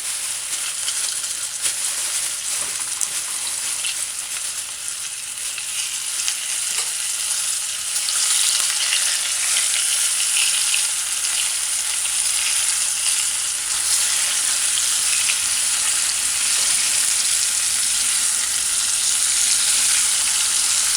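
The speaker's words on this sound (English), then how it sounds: "So allow it to fry on one side for a couple of minutes." Floured chicken pieces frying in hot oil, a steady, dense crackling sizzle that runs continuously throughout, fairly close and loud with no voices.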